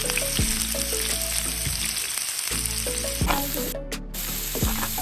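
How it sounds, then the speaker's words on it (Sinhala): Chopped garlic and onions frying in hot oil in a pan, a loud continuous sizzle with crackling bursts, close and steady throughout without any talking. "මේ ටික රත් වුණාට පස්සේ ඔයාලා කපාගත්ත සුදු ලූණු ටිකයි ලූණු ටිකයි මේකට දාගන්න."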